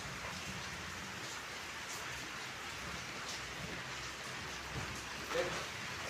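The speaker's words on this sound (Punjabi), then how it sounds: "ਚਲੇ ਚਲੇ ਮੀਂਹ ਆ ਗਿਆ ਹੈ" Steady rain hisses down in a dense, even patter, with a faint low rumble underneath and no voices.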